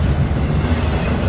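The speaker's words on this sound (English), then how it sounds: "Looks like intermodal. Single locomotive in the front" An intermodal freight train led by a single locomotive rolls past close by, a loud, dense rumble of wheels on rail with some high metallic squeal.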